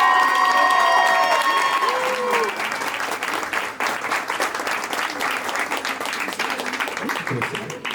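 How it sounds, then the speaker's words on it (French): An audience applauds and cheers for a prize winner at a student talent contest, a dense sustained round of clapping that starts strong, with music fading out early and a voice talking over it. "On peut l'applaudir bien fort s'il vous plaît"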